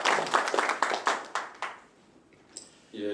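At a Yangju residents' forum, a scattered group of hands claps in a welcome for a National Assembly member. About eight distinct clap bursts fade over a second and a half, then a brief quiet follows before a voice begins.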